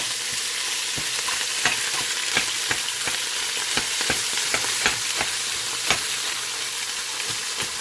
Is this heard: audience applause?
no